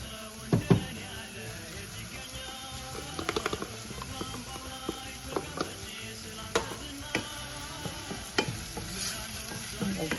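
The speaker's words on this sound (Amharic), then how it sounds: "ትንሽ እናቅላላለን ከዘይቱ ጋራ ማለት ነው።" Onions and tomato sautéing in oil in a pan for macaroni sauce, a steady close sizzle with repeated spoon stirs and scrapes against the pan throughout.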